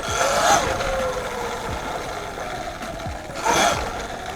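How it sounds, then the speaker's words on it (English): An electric dirt bike rides along a trail, its whining motor rising and falling in two surges amid wind and rough trail noise, heard up close. "This bike is fast. Just a straight up electric dirt bike."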